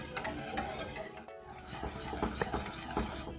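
A spoon stirs orange pudding mix in a pan on a medium flame as it thickens, giving a continuous scraping and rubbing sound with soft rhythmic strokes and a faint sizzle. No voices.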